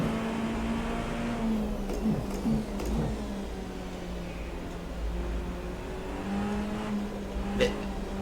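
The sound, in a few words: BMW race car engine accelerating in Rennsport racing video game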